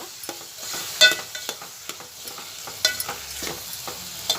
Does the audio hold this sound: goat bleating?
no